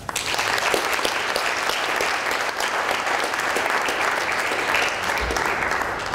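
An audience claps loudly and steadily in a dense, continuous wave of applause that welcomes a speaker to a talk on globalization of information and communities.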